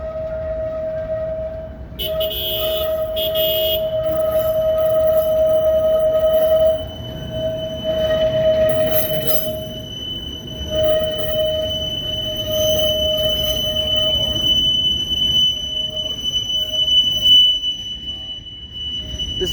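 CSX tie train, an unusual work train carrying an ex-Conrail car, rolls past at Point of Rocks with a steady rumble of wheels and clatter, a sustained squeal or tonal whine running throughout, loud and close, no talking.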